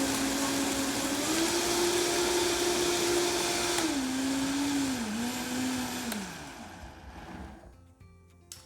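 A countertop blender runs loud and steady on cashews and water being blended into milk, a sustained motor whine that shifts pitch a few times as the load settles, then winds down and fades toward the end.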